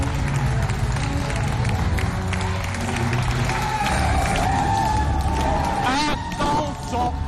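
Audience applause at the Fest Africa Show cultural diversity event as a researcher is welcomed: a sustained crowd clapping and murmuring under a presenter's talking, continuous throughout.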